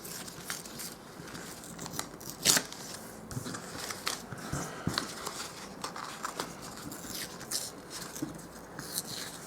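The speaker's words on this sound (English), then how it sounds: "I'm just going to tear all around that" Sublimation paper is torn by hand around a printed image, giving soft, irregular rips and crinkles in short bursts, fairly quiet and close with one sharper tear.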